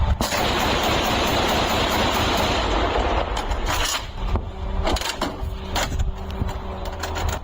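An anti-aircraft gun's heavy fire rattles in a dense continuous burst, then breaks into separate sharp bangs and echoes, loud and close.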